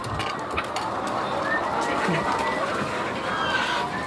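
Chickens on a poultry farm in Nagcarlan, Laguna, with faint bird calls and clucks scattered through a steady, busy background hum while people talk nearby.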